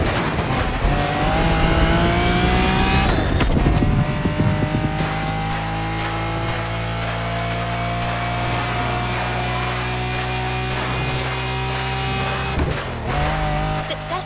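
A Lamborghini Countach 5000 Quattrovalvole engine in The Crew Motorfest revs hard and loud, then settles into a steady high drone with shifting tones, a sharp rise returning near the end.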